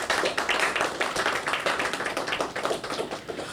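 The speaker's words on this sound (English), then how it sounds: "Give yourselves a round of applause." An audience at a school band and choir music video launch applauds, a dense patter of clapping hands that stays fairly steady, then thins slightly toward the end.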